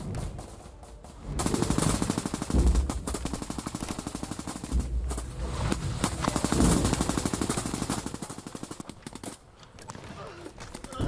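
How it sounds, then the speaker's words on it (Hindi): Rapid automatic gunfire crackles at the Gaza border in bursts of fast repeated shots, steady and fairly distant-sounding, with a voice talking over part of it. "फायरिंग की आवाज सुनाई पड़ रही है"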